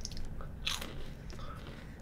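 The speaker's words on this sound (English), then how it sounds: "They're crunchy." A close, crisp crunch as a crunchy soy and corn Japanese snack is bitten, followed by softer chewing crackles.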